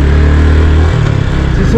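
A motorcycle engine runs loudly and roughly in cold, snowy mountain weather, a close, steady low-pitched drone with a slight shift in tone partway through.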